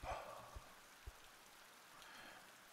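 Soft steady rainfall in the fantasy strategy game Thea 2: The Shattering, a faint continuous patter with a few low thuds scattered through it and no voices.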